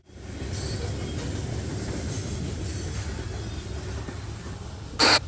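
A freight train carrying lumber, paper, steel and acid rolls steadily past with a continuous low rumble of cars and wheels, ending in a short sharp metallic burst near the end.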